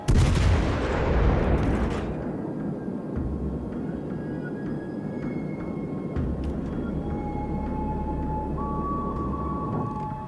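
A single heavy artillery shot from a warship in World of Warships Legends, a loud boom at the start that rumbles away into a long, low ambient drone with faint tones.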